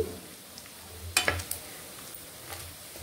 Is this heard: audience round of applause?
no